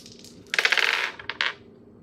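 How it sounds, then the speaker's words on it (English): Dice clatter and tumble across a hard surface in a quick burst of sharp clicks, then settle with a couple of final taps, close and alone without talk. "I'll just do one more roll of the dice."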